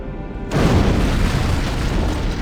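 An antimatter charge explodes aboard a starship in Halo CE, a sudden deep boom followed by a sustained rumbling roar that fills the space loudly.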